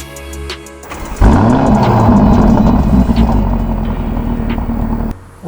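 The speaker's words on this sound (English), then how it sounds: "it is the sound of this car, the exhaust" A Lamborghini Urus exhaust bursts into a loud, close rev after a brief quiet moment, its pitch rising and then holding a steady deep roar for several seconds before cutting off abruptly.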